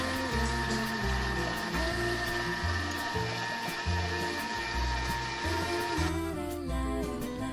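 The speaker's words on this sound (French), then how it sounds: "on va mettre 1 minute 30. Et on va mixer à 3, 4" A Thermomix food processor mixes a preparation at speed 3 to 4, giving a steady motor whine with a churning, whirring drone that holds constant and close for several seconds.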